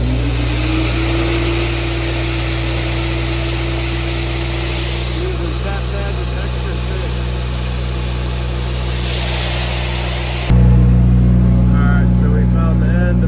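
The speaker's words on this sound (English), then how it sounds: "So I'm going to get that all drilled out" A dual-speed magnetic drill bores into a crack in a steel excavator boom, giving a loud, steady motor whine with grinding cutting noise that shifts pitch, then cuts off abruptly into a lower hum.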